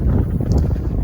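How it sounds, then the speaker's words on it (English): Wind blowing outdoors in Flagstaff, a steady low rushing buffet across the microphone, continuous and fairly loud throughout with no talk. "Windy also, which is really great."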